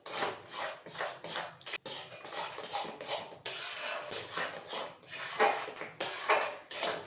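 A spoon scrapes and rubs repeatedly against the bottom of a pot as thickening milk pudding bubbles over a flame, steady rhythmic stirring close up with no talk.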